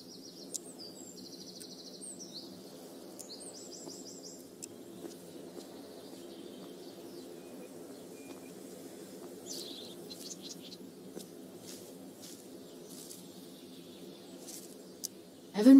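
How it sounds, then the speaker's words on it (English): Game birds chirp in short, bright bursts over a steady low ambient hum in a video game level, the calls scattered across the stretch at moderate distance, with no talk alongside. "Evan would follow that bird off a cliff"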